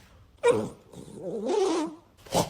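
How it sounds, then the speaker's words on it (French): A dog gives a few short barking and whimpering vocalizations in quick bursts, close and fairly loud, with brief pauses between them. "Bah, c'est un chien."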